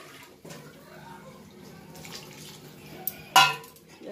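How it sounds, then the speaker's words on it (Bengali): Water is poured into a cooking pan on a gas stove, a soft, faint trickle with light clinks and a brief louder splash and hiss near the end. "জল দিয়ে দিলাম"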